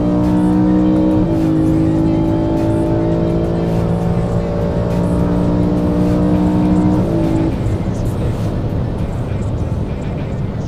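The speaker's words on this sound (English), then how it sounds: "Love the sound of the E34 intake." A BMW E34 engine is revved, giving strong sustained harmonic intake tones that hold steady, step up, then fall away into a rougher rumble, loud and close with a voice talking over it.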